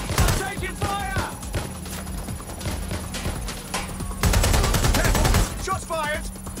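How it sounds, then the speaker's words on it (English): Rapid bursts of gunfire ring out in the Watch Dogs: Legion video game, loud and near, with a heavy continuous volley near the end, while voices shout and call out over the shooting. "Careful! Shots fired!"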